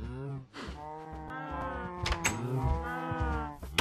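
Baby cows in the video game Minecraft give several drawn-out, wavering moos in a row, close and fairly loud, with short low thuds between them.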